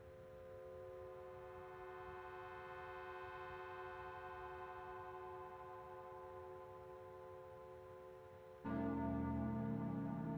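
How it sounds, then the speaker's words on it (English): An alarm bell goes off in the roguelike game Caves of Qud, a sustained ringing tone with steady harmonics holding for several seconds before a louder, harsher burst of sound cuts in near the end. "Oh, did the bell go off?"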